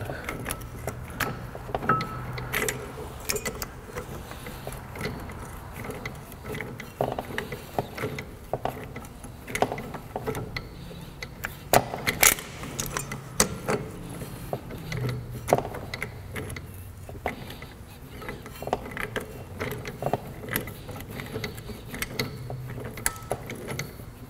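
AutoGrip pliers worked with a ratcheting motion on a car part in a garage: repeated small metallic clicks, clacks and scrapes at close range over quiet background, irregular in rhythm, no talk.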